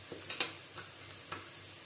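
Chilli powder frying with onions in a pan gives a soft sizzle broken by a few light scraping stir strokes, faint and close.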